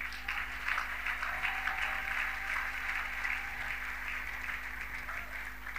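Church congregation applauding during a Sunday service, a steady patter of many hands clapping together, moderately faint and continuous throughout.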